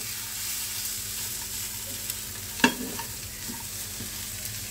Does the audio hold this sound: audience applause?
no